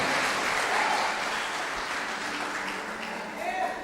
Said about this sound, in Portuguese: Quem crê, dá um aplauso bem gostoso para Jesus